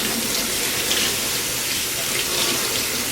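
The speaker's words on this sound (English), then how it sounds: "Rinse it until the water's clear pretty much" Tap water runs steadily into a sink while a tie-dyed shirt is rinsed, a loud, even gushing splash that continues without a break throughout.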